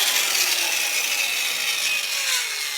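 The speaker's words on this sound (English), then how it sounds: "Obviously it sounds like there's a gear stripping up in here" A Heiniger Extra (Andis) animal clipper runs with its cover off and a stripped gear, giving a steady, loud, high-pitched grinding rasp that holds continuously without pause or talk.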